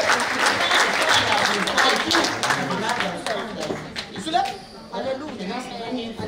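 Congregation applauding in a church service, dense sustained clapping and cheering from a crowd that fades slightly toward the end, with voices mixed in.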